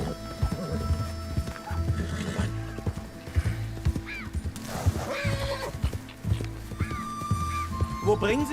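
A horse in the video game Red Dead Redemption 2 trots with steady, rhythmic clip-clop hoofbeats and gives a couple of high whinnying neighs, while a game soundtrack and character voices talk over it.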